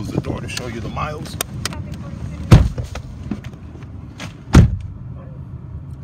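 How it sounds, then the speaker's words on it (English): The door of a 2005 Ford Taurus SE sedan is shut from inside, giving two heavy, solid thuds about two seconds apart over quiet cabin ambience, with brief talk near the start. "Gotta close the door"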